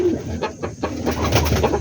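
Pet pigeons coo in low, throaty repeated calls at feeding time, close and steady over a brief stretch, with a little background murmur.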